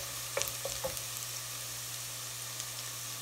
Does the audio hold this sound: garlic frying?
yes